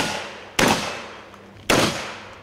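Two loud, sharp gunshots about a second apart at a practical shooting match in Yuzhno-Sakhalinsk aimed at 10 by 10 centimetre steel plates, each crack trailing off in a reverberant decay, with no talk.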